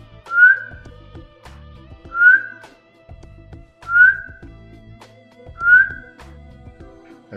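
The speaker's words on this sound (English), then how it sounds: "They make a series of short, sharp whistles." Ruffed grouse call heard as four short, sharp rising whistles spaced about two seconds apart, clear and fairly close with quiet low rumbling between them.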